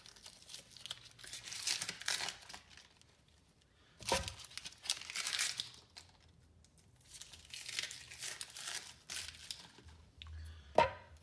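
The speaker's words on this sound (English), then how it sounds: "and then we're just going to peel our onion." Dry, papery onion skin is peeled by hand in several close crinkling, tearing bursts separated by brief pauses, ending with a sharper snap.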